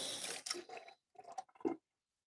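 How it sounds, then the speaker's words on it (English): A knife blade rinsed under running water in a home kitchen while preparing pork ramen, short splashing and dripping bursts with a pause between, close and fairly quiet. "I'm just going to give my blade a quick rinse off."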